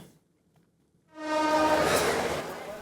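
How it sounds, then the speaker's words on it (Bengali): A train pulls in at Kamalapur railway station. After a quiet start, a loud, sustained horn blast comes in over a broad rumble of rail noise and holds to the end. "দেশের বিভিন্ন এলাকা থেকে নির্ধারিত সময়ের চেয়ে অনেকটা দেরিতে স্টেশনে ভিড়ছে ট্রেন"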